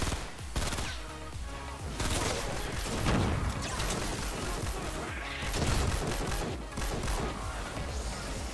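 Rapid gunfire in Fortnite: Save the World as players shoot at a cake, dense overlapping bursts and crashes running continuously and loud throughout.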